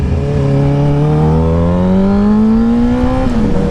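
An engine revs hard and climbs steadily in pitch as the vehicle accelerates through a wheelie, a loud, close, sustained whine that dips briefly near the end.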